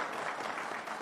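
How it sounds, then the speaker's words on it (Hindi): Audience applause at an NDTV real estate conclave, a dense, even wash of clapping from the crowd. "तो एक बार फिर से ज़ोरदार तालियां बजा दीजिए,"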